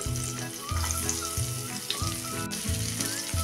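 Sliced onion goes into hot leftover oil for a dhaba-style cashew masala gravy, sizzling and frying steadily with a stirring clatter and rhythmic low thumps under the continuous hiss.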